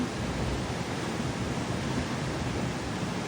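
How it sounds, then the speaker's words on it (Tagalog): Strong ocean waves in typhoon weather on the coast of Bohol, heard as a loud, continuous roar of surf with a heavy wash and no break or voices. "Sobrang lakas ng alon."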